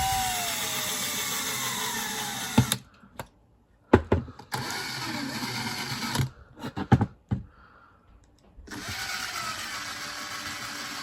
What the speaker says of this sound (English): One can use the drill to cut out one of these holes.